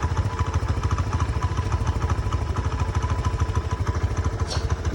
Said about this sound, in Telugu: బండి నాయిస్ అర్థమైపోద్ది నీకు ఇప్పుడు